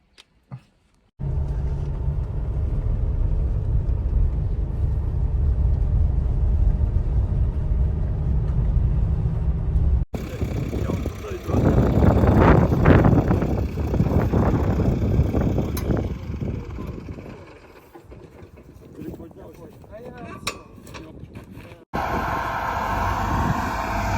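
A car drives out to a farm field, its engine rumble and road noise steady and loud for several seconds, then buffeted by wind noise against the microphone, with a short rattling break near the end.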